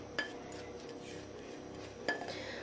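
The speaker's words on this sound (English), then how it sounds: "Just using a little spatula to scoop out the remainder." A small spatula scraping the last of a courgette quiche mixture from a bowl: two sharp clinks against the dish over a soft, continuous scraping, close and quiet, with no talking.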